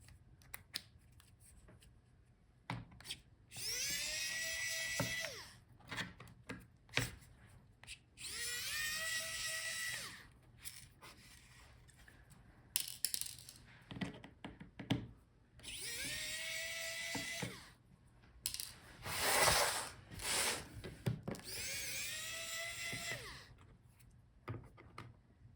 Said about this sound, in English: Start with bottom screws. You need a T4 Torx screwdriver.